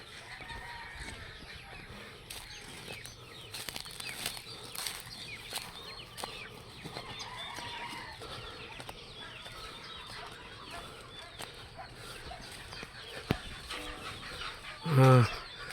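Chickens cluck and murmur at a moderate distance over a busy outdoor backdrop during a corn harvest, ending with one louder, nearby squawk.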